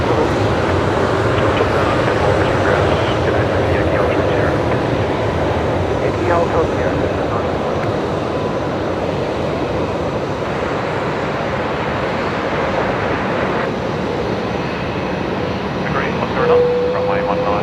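Air New Zealand jet departing Brisbane Airport at night, a steady broad engine roar heard throughout, partly under people talking.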